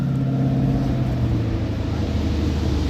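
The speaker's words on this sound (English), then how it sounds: "You can hear that engine there." A 4.6-litre V8 in an MG ZT 260 idles steadily at close range, a deep, even rumble with low harmonics and no revving, on its own with no voices.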